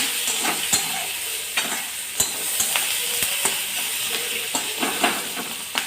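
Onions fry in a pan on a home gas stove, a close steady sizzle broken by repeated sharp scrapes and taps of a stirring spoon at an uneven rhythm, with no talking.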